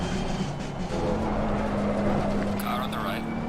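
Race car engines in a racing video game, a steady droning engine note with a rising whine as another car passes close by, heard under a voice speaking.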